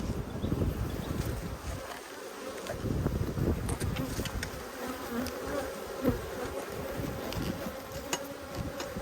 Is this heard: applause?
no